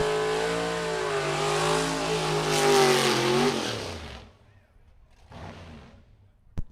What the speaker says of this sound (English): The power plant underneath 820 cubic inches of displacement for the motor under the hood of Dennis Furcus's Chevy Cobalt.